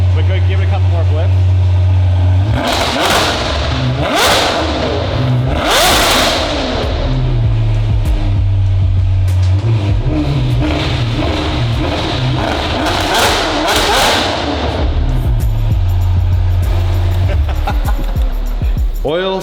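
A Ferrari V12 with a flashing oil light and oil smoke idles loudly and is blipped several times, each throttle stab rising into a roar and dropping back, while people talk over it.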